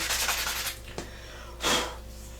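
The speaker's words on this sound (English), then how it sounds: "And we're ready to sand it down." A handmade wooden crankbait lure being sanded by hand, close rasping strokes in a quick rhythmic run, then a pause and one longer, louder stroke.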